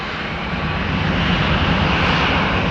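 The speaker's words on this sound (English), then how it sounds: "This should be KLM Flight 1901 to Vienna" A KLM jet departs Amsterdam Schiphol for Vienna, its engines a loud, close, continuous roar filling the whole brief moment with no voices.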